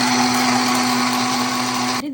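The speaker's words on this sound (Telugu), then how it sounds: "అది నేను గ్రైండ్ చేసుకుంటున్నాను" A mixer grinder whirs loudly and steadily as it grinds garlic into a spicy paste in a South Indian kitchen, holding one even motor pitch before it cuts off abruptly near the end.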